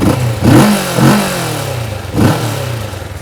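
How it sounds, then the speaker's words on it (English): A Kawasaki Vulcan S 650cc cruiser motorcycle's exhaust is revved three times in quick blips, each rising sharply and dropping back to a rough idle, loud and close, with no talk. "this is quite an angry and ferocious exhaust, but it's not that thumping sound that you would expect from a 650cc cruiser"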